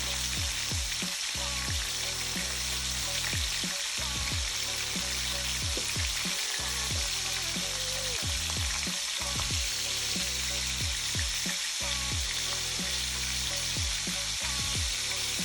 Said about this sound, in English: We're cooking in all that bacon grease.